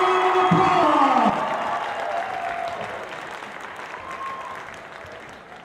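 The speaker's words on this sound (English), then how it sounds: "Let's give them a round of applause." Crowd applause and cheering at a high school varsity wrestling meet honoring the seniors, loud at the start with a few whoops, then fading gradually into a softer, sustained clapping.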